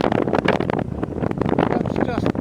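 Strong gusty wind buffets the microphone outdoors at night in rough, uneven bursts, loud and close throughout.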